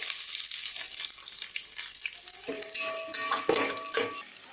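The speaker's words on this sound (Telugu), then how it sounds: "దీంట్లో ఆనియన్స్ వేస్తున్నానండి" Onions fry in hot oil with biryani masala and cashews for mutton biryani, giving a steady bright sizzle, then a spoon stirs and scrapes against the pan several times near the end.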